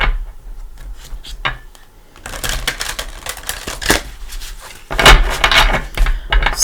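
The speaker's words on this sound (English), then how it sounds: "Again, give it a couple shuffles." Tarot cards are shuffled by hand in close, crisp bursts of riffling and tapping, quiet at first, then louder, with short pauses between rounds and no talk.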